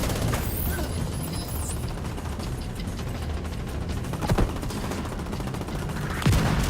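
Turret gunfire rattles in the shooter game The Division 2, a dense stream of rapid mechanical shots and clatter running steadily with a couple of sharper louder bursts.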